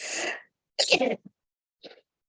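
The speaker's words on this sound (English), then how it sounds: "Gonna sneeze." A single sharp human sneeze bursts out, followed by a short sniff and a faint breathy trailing sound, close and alone.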